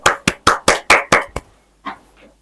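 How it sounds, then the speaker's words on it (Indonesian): A small group claps for group 1 in a classroom, about seven sharp, evenly spaced claps close by, then two fainter trailing claps after a short pause. "Beri aplaus untuk kelompok 1."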